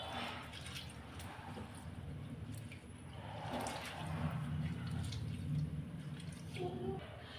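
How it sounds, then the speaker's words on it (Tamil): Rice being washed by hand in water, rubbed and rinsed several times for fried rice: soft continuous sloshing and trickling with light splashes and drips, close and quiet, steady throughout. "இதை இந்த மாதிரி நல்லா பிசைஞ்சு நல்லா ஒரு 4-5 தடவை நல்லா கழுவி எடுத்துக்கலாம்"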